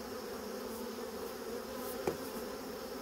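A mass of honeybees drones steadily at an opened hive, a close, continuous buzz with one brief knock partway through.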